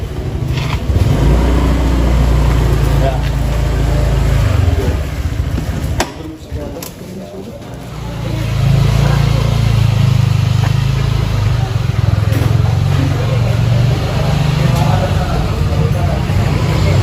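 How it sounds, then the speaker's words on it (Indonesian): A motorcycle engine runs close and loud with a low idling rumble, dips briefly as the bike is parked, then picks back up, while people talk over it. "Kita akan parkir motor dulu."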